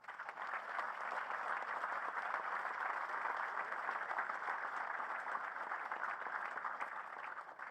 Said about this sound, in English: And a round of applause for our distinguished guests.